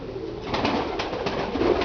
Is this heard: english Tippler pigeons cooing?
yes